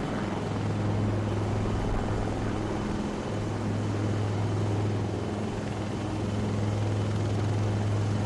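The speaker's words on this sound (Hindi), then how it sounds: "वास्तविक में यहाँ पर दो हेलीकॉप्टर्स है परेड ग्राउंड के दाएं और बाएं।" Two helicopters idle on a military parade ground, a steady loud low rotor and engine drone that holds without a break, with no talk.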